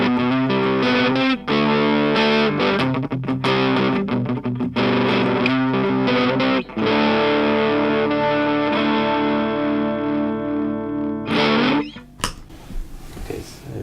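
An electric guitar through a Keeley-modded Boss DS-1 distortion pedal set to Ultra plays heavily distorted chords and sustained notes, loud and saturated, with brief pauses between phrases before a final noisy crackle.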